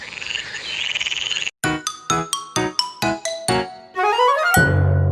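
Frogs croak in a dense, rasping chorus, then give way to a run of about eight bright, evenly spaced chiming notes and a rising tonal sweep.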